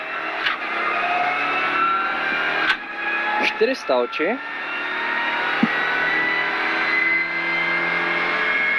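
Rally car engine in an onboard run on special stage 3, Baumgartenberg - Mitterkirchen, at the Perger Mühlstein Rallye 2023, droning steadily close up while a co-driver reads pace notes over it.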